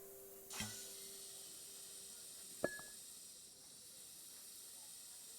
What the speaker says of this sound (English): I'll need to connect all the pipes correctly to stop the steam pouring out